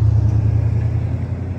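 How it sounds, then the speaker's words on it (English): A truck drives past near a covered bridge on a creek road, giving a steady, loud low rumble that holds level throughout, close by, with no talking over it. "I got a truck coming past"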